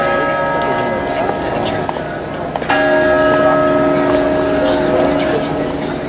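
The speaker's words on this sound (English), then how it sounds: "The bell is original and is signed by Simone Campanato, who cast it in" The original bronze bell of St Mark's clock tower in Venice, cast in 1497, rings with sustained, steady metallic tones that are loud and continuous, with a fresh strike partway through over background ambience.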